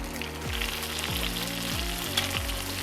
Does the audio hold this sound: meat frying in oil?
yes